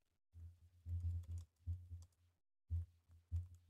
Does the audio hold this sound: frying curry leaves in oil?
no